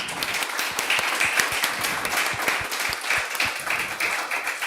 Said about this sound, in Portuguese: Então gostaria mais uma vez uma salva de palmas a cada um deles.